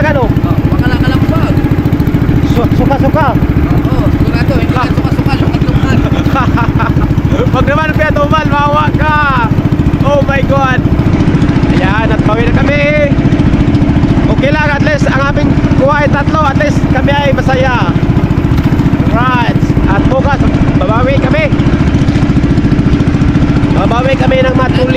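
A loud fishing boat engine running at speed drones steadily throughout, with people talking over it.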